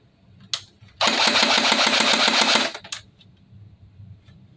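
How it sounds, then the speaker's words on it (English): A Cybergun FN P90 airsoft replica fires a rapid burst of shots close by, a dense mechanical rattle lasting under two seconds, with a couple of single clicks before and after. "I'm gonna try my rate of fire with semi-auto first"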